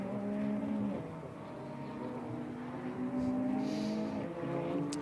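McLaren race cars at speed on the track at Indianapolis, a continuous engine drone with shifting pitch as cars pass and change gears, heard at a moderate distance.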